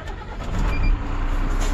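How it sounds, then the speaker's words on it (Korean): Diesel engine of a rescue crane fire truck turning over and catching, a low rising rumble settling into a steady idle. "먼저 차량에 탑승하셔가지고 시동을 걸어줍니다."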